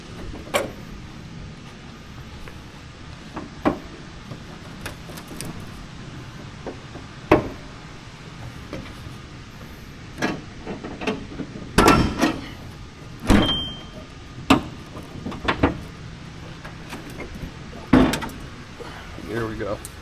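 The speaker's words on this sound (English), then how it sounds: "I'm gonna go ahead and get this hood open." Metallic clunks, latch clicks and knocks come from the hood of a 1971 Oldsmobile Cutlass 442 convertible as it is worked open, in scattered bursts close to the listener.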